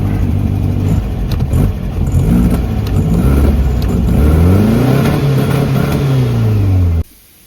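A Volkswagen Beetle engine revs repeatedly, rising and falling in pitch, then dies abruptly near the end as gas is given, leaving near silence.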